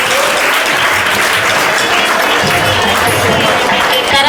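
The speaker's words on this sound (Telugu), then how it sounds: "గట్టిగా కొట్టండి నాన్న చప్పట్లు" Dense, loud applause from a large audience of schoolchildren and teachers at a Teacher's Day ceremony held at a government high school in Borabanda, Telangana, sustained and even throughout with faint crowd murmur.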